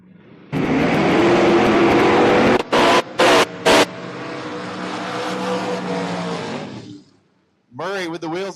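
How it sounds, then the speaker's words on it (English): Junior dragster launching down a drag strip at a drag racing event, a loud sustained engine roar for about six seconds that fades away, with a second brief engine buzz near the end. "Murray with the wheels up, launch 19 total for the loss as Erica throws down 11 total for the win"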